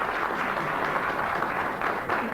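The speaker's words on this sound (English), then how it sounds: "the volume of your applause will determine this" A studio audience applauds a musical rendition of a tune on a radio comedy panel show, a steady, dense roar of clapping held at full volume throughout.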